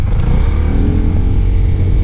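A new motorcycle's engine roars loudly and continuously up close as it is ridden, a deep steady rumble with no voices.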